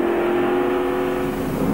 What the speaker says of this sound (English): Ram the accelerator to the floor.